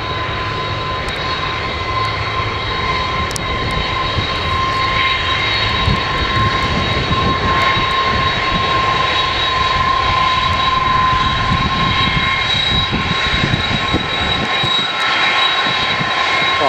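A heavy, fully fuelled USAF KC-10 tanker jet takes off at RAF Mildenhall, a loud continuous engine roar with a steady high whine, holding strong and close throughout.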